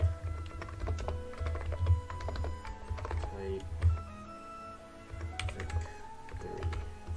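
Steady computer keyboard typing, a run of quick, close clicks and key taps with uneven rhythm while writing ray tracing code, with a low hum and faint background sounds but no clear talk.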